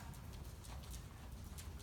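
Horse trotting during a riding lesson, hooves clip-clopping in a steady quick rhythm over a constant low rumble of wind or ground noise, fairly faint and without talk.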